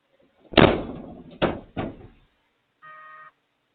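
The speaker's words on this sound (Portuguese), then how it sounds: "no mesmo vídeo é possível observar uma porta se fechando sozinha" A door swings shut with a loud slam, followed by two quicker knocking thuds close by, then a short electronic tone after a pause in an otherwise quiet room.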